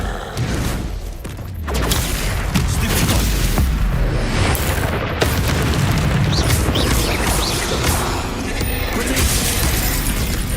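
Explosive Confringo spell blasts in the Hogwarts Legacy video game, a dense barrage of loud booms and shattering crashes mixed with other spell effects and combat noise, continuous and close.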